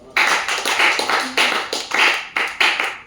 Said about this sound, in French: Est-ce qu'on peut applaudir ici?